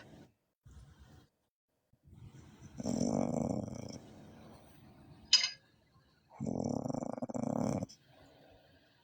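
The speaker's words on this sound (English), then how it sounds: "Was she really snoring?" A person snoring in loud, rough bursts with pauses of breathing between, close by, with a sharp click in the middle.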